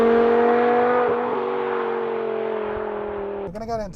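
A BMW E60 M5's V10 engine holds a high, smooth rev that slowly sags in pitch, then drops off into a rougher wavering note near the end, heard from inside the car.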